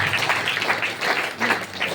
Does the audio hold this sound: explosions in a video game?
no